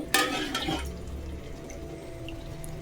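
Water is poured into a pot for prawn biryani after the masala is sautéed, making a short, close splashing gush that gives way to a quiet kitchen hum.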